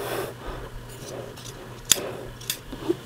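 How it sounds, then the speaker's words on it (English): Scissors trimming the fabric flaps of a Henley placket, with a few soft snips and one sharper click amid quiet handling noise, close by. "Now we're going to trim our flaps."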